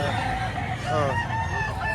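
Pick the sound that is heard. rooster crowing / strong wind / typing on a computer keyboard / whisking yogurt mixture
rooster crowing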